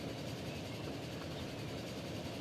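A model train in the game Transport Fever rattles steadily along its track, a continuous low rumbling clatter with no voices over it.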